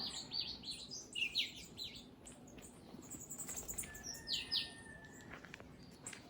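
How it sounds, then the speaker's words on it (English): Several birds chirp and tweet in a backyard, quick high calls scattered throughout, faint and somewhat distant over a soft ambient background. "you hear all the birds going"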